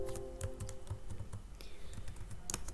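Someone types watermark text on a computer keyboard. Quick, irregular key clicks sound close and clear over a faint steady hum, with soft voice sounds in the background.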